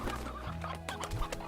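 A rooster in the video game Slime Rancher clucks in a short run of scratchy calls over a soft, steady game background.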